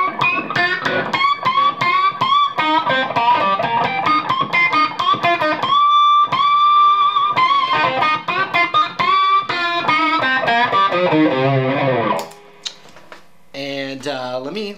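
Distorted electric guitar in a blues rock lead style, playing a dense run of picked notes and sustained bends, loud and alone, breaking off near the end before a few more notes.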